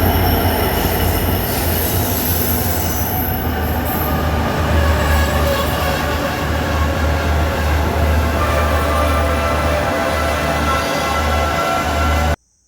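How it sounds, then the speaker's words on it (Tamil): Sri Lankan train pulling into a station, a loud continuous rumble of wheels with sustained metallic squealing throughout, ending abruptly. "ட்ரெயின் வருது நாங்கள் ஏற போகிறோம்"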